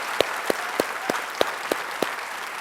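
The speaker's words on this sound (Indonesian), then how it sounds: "Kita kasih tepuk tangan untuk Bambang Wijoyanto." Scattered, unhurried claps from a small studio audience on an Indonesian political talk show, about seven distinct near hand claps spaced evenly across a few seconds with no talking.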